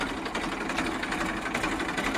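A Massey tractor engine runs steadily, a dense, even mechanical chatter heard close and alone, with no pauses over its short span.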